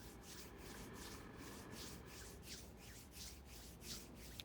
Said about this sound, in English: you're just going to slowly start to rub your hands together like they're cold and you're trying to warm